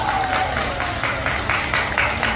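Applause from an audience at a Buddhist temple event in Tan Binh welcomes a male singer, heard as loud clapping that pulses in short bursts, close and continuous.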